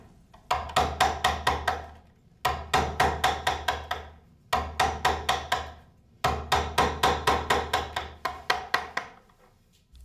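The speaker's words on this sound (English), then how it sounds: "Each blow on a carver's chisel must be accurate. The wood forgives only slight errors." A hammer strikes a carver's chisel into a wooden gingerbread mould, giving four bursts of quick, sharp, evenly spaced knocks with brief pauses between them, close and clear with no talk.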